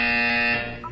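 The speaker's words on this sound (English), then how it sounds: "When you hear the buzzer, look down at the floor" A single electronic buzzer tone from the video game Portal 2 holds steady and loud for about half a second. It then fades and gives way to brief rising blips.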